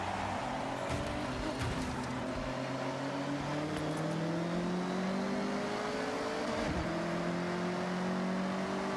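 A Subaru BRZ's engine in the Forza Horizon 6 racing game drones continuously at high revs, its pitch climbing gradually across the run with brief dips like gear shifts, loud and steady throughout.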